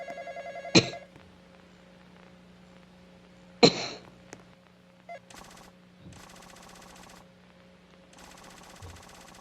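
An old-style telephone bell rings in the Roblox horror game Midnight Motel, with sharp bursts early on followed by repeated rattling trill rings at a moderate level over a faint steady hum.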